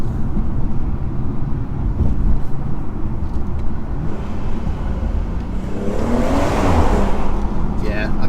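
A 2017 BMW 440i Gran Coupe burbles from its exhaust while driving, a steady low rumble with a swell of engine noise toward the end, heard from inside the car with someone talking.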